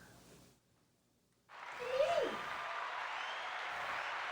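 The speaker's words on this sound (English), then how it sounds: "Y'all put your hands together for my daughter, to Shayla" An audience at a cooking demonstration applauds a young girl: after a brief lull, a broad wash of clapping swells up and holds steady, with a short voiced sound rising over it.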